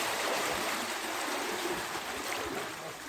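Steady broadband rush of a hill stream pouring over slippery stones near Ajodhya Hill, a continuous close wash of flowing water with no voices.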